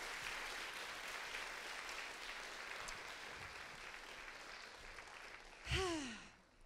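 Steady audience applause at a talks event for a band, a broad even wash of clapping that holds throughout, with a brief voiced exclamation rising near the end.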